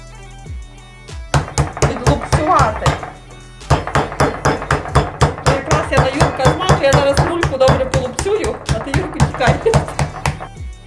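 Raw pork knuckle is pounded to tenderize it for a rolled roast, giving a quick, regular series of loud, close thuds in two bursts separated by a short pause.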